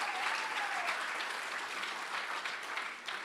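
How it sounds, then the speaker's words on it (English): Steady clapping from the audience at the Sharelle McMahon Medal 2024 netball awards, fading slightly toward the end, with a brief faint whistle-like tone early on. "Round of applause."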